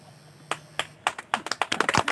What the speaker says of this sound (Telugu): అప్పుడు ఫుల్గా వస్తాయి క్లాప్స్ సౌండ్స్